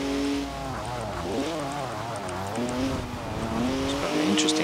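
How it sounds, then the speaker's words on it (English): A high-revving six-cylinder engine of a stock 2011 BMW 1 Series M Coupe in Forza Horizon 4, rising and falling in pitch as it climbs through gears, loud and steady throughout. "High revving. Six cylinder."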